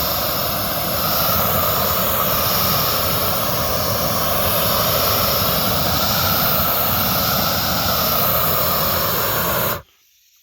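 A Harbor Freight flamethrower roars with a steady, loud, jet-like hissing rush that holds constant for about ten seconds, then cuts off abruptly.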